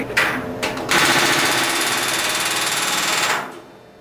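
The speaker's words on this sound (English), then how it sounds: "he's telling me how much I need to drive it to make the rivet a legal rivet" A pneumatic rivet gun drives a rivet into a boot cowl, a rapid buzzing hammer burst after two short taps, running loud and steady for about three seconds before stopping abruptly.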